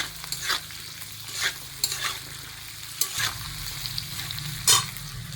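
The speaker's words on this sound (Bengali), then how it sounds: "এই যে এখন সবজিগুলোকে হালকা করে ফ্রাই করে নিচ্ছি" Vegetables for chilli chicken fry lightly in a pan, a low steady sizzle broken by several sharp scraping stirs of a spatula, close up and with no voices.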